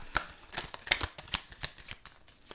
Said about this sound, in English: There's a little bit too many cards. I'm gonna shuffle.